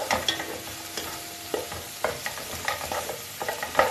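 A spoon stirs mushrooms into a simmering mushroom sauce in an uncovered pot, with repeated scraping strokes and soft knocks against the pot over a gentle sizzle. Nobody talks.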